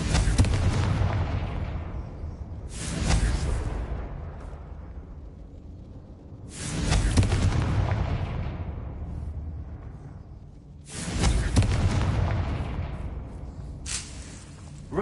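Confringo blasting-spell explosions in Hogwarts Legacy: three loud, booming blasts spaced a few seconds apart, each with a sharp broadband crack that decays into a rumbling tail.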